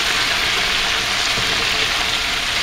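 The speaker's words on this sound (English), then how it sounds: "just sort of give it a quick stir on the bottom so none of your sausage burns or anything" Sausage cooks in a soup pot and gives a close, continuous sizzling hiss as it is stirred across the bottom, a short burst of quick frying with no talk.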